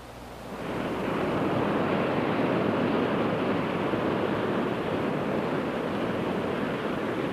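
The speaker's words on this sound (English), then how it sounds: "This is the Pacific Ocean." Ocean waves on the Pacific coast rush onto a California beach in a loud, steady roar of surf that swells in during the first second and then holds continuously, with no voices.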